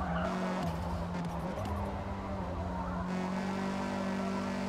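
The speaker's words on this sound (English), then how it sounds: "He took too much speed into the corner and he spun out," Race car in Forza Motorsport skidding and spinning out after taking a corner too fast, a loud continuous tire squeal over the engine's shifting drone, pitch changing as the car slides around.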